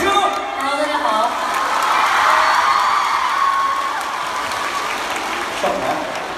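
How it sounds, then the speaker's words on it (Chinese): A theatre audience at a live concert in Shanghai claps steadily for several seconds. The dense applause is mixed with some cheering and crowd noise throughout. "掌声。"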